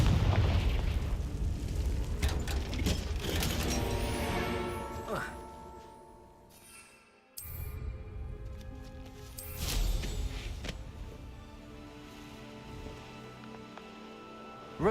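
A Confringo fire spell goes off in Hogwarts Legacy with loud, booming explosive bursts and crackling debris that rise, fade, then erupt again, close and heavy over the game's score.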